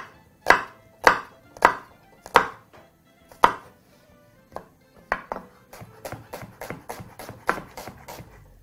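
A knife chops food finely on a cutting board, first with about five slow, heavy, evenly spaced strikes, then a quicker run of lighter chops, close and clear with no talking.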